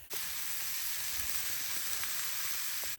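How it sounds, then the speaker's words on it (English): Steady, loud sizzling of chicken frying in a hot skillet outdoors in a forest, a continuous hiss that holds for about three seconds and cuts off at the end. "The best part of a skillet is you hear that beautiful sound"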